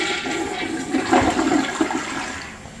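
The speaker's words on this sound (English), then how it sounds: "Everything's flushing good" A toilet flushes with a steady rush of water that surges and gurgles, close and loud, after a clogged waste line has been cleared.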